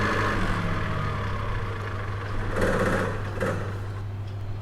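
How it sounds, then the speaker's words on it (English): A generator engine runs at a steady idle with a low, constant hum and a fine mechanical rattle, moderately loud and unchanging, with no voices. "To start the generator, press here and then press the green start button."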